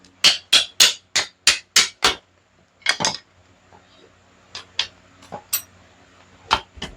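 A rapid run of sharp metallic hammer strikes knocks the brake caliper bracket loose on a 2019 Dodge Ram 1500, seven quick close blows, then a pause and scattered lighter taps, no speech.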